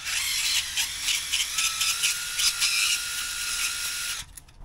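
Sandpaper rubbed dry against a metal shaft spinning in a drill, a loud steady whirring hiss with slight wavering, cutting off abruptly near the end.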